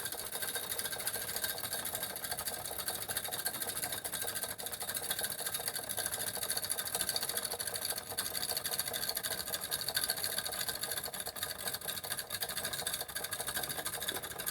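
A brand-new Jensen 25NP nickel-plated model steam engine, still being broken in, runs at about 2.5 to 3 pounds of pressure with a steady, rapid mechanical ticking and chuffing that stays even and fairly quiet throughout.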